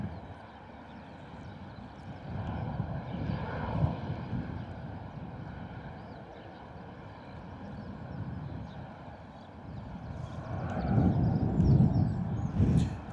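A TUI Airlines passenger jet at Bristol Airport rumbles steadily in the distance amid wind noise, its engine roar swelling louder toward the end.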